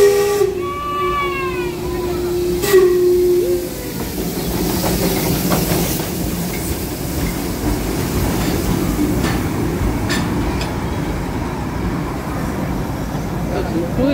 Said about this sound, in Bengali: স্টিম ইঞ্জিনওয়ালা টয় ট্রেন আসছে